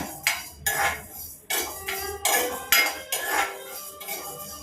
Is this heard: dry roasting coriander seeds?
yes